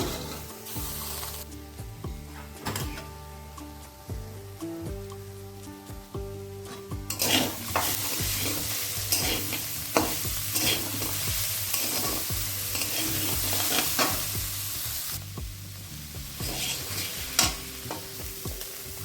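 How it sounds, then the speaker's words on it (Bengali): Spices and ginger-chili paste fry in a pan for mochar ghonto with fish head, a steady sizzle with repeated scraping strokes of a spatula and occasional clinks against the pan, close and continuous for about nineteen seconds. "চার পাঁচ মিনিট ভেজে নিলাম"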